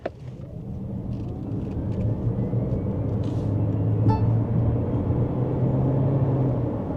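A Jaecoo J7 SHS plug-in hybrid SUV pulls away under acceleration, its steady low road and drivetrain rumble building smoothly from inside the cabin with no gear-change breaks, one brief faint click partway through.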